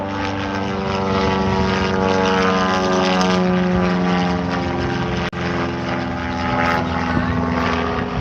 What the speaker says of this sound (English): that looks like one of those experimental planes